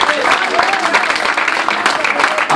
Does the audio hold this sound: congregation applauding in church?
yes